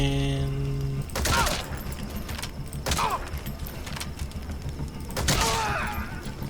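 Gunfire in Metal Gear Solid V: three separate loud shots spaced a couple of seconds apart, each with a sharp crack and ringing tail, after a brief electronic tone at the start.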